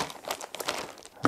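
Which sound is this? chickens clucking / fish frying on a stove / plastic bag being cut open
plastic bag being cut open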